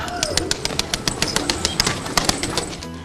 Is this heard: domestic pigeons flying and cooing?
yes